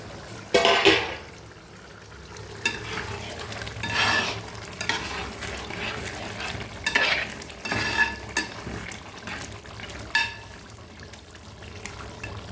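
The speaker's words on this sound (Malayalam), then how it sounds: "നമുക്കൊന്ന് തുറന്ന് നോക്കി ഇളക്കി കൊടുക്കാം എന്തായി നോക്കാം" Chicken curry in a lidded pot over glowing embers is uncovered and stirred, giving repeated bursts of scraping and wet sloshing with a soft bubbling simmer between strokes, close and moderately loud with no talking.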